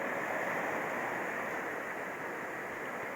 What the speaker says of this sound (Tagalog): Ayun, no, malaking alon